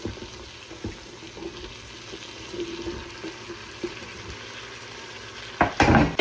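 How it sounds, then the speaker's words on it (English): Onions and zucchini fry in a pan, with a soft steady sizzle and occasional spoon taps and stirring scrapes, then a louder burst of clattering near the end. "I'm gonna cook this until the onions start to get a little translucent and start to wilt"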